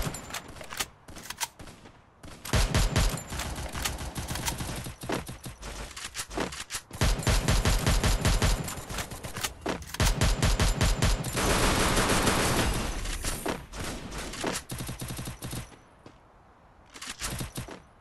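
Rapid automatic gunfire from the Garena Free Fire battle royale game, loud and dense, with bursts and sustained volleys packing most of the stretch and only short pauses between them.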